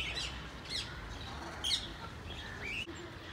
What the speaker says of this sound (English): There are so many birds in this zoo.